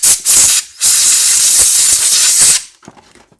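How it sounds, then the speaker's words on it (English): Compressed air blasts loudly out of the carburetor of a Yard Machines 5HP snowblower during cleaning, a hard steady hiss in two bursts, the second longer, ending in quiet clicks and handling noise. "I'm just going to blow this out because it looks really nice with some compressed air"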